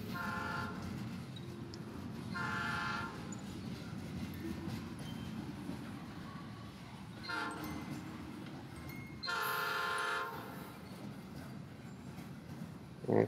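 A train in the video game The Stillness of the Wind rumbles steadily throughout, with several loud horn blasts rising above the low rolling noise.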